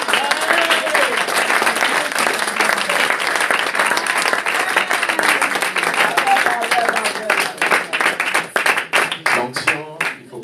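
Church congregation applauding and clapping loudly at a sermon, a dense sustained wash of claps that thins into scattered individual claps near the end, with voices mixed in.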